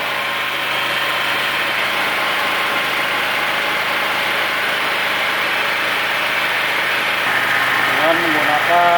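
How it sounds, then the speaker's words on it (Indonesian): A GGA 3900 generator engine runs at a steady, loud drone with a constant hum, close by, while someone talks over it. "Dengan menggunakan genset yang tipe GBA ya. Ini 2500 watt."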